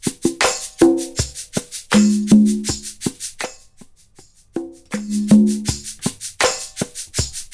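Percussion group bus run through Logic Pro Mastering Assistant EQ, playing alone: a steady rhythmic pattern of sharp hits with tonal drum thuds, a brief quieter break in the middle before the groove resumes.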